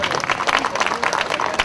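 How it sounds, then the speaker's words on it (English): Brief burst of applause from an audience at a community event honoring a Member of Provincial Parliament. The dense clapping runs steadily and fairly close for under two seconds, with a murmur of voices mixed in. "Ladies and gentlemen, please give a round of applause to the Member of Provincial Parliament, Mr. Rosario Marchese."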